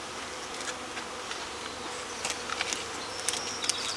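Honeybees in a wooden hive box buzz steadily at close range, a continuous droning hum with occasional sharper individual bee passes near the end, no talking.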